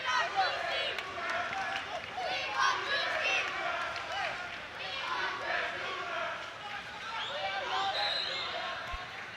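A stadium crowd roars and cheers steadily throughout a Baller League USA football match between Any Means United and Club 360, a dense wash of voices with a commentator's speech on top.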